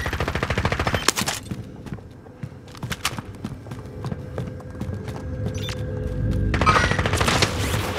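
Rapid automatic gunfire in Call of Duty: Warzone, bursts of sharp shots rattling in quick rhythm over eight seconds, close and loud with a deep rumbling boom near the end.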